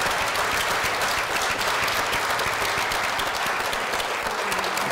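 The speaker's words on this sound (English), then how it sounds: "I would like to applaud as hard as you can for this marvelous panel." An audience applauds steadily for a panel at a European literature conference, dense continuous clapping filling the hall without a break.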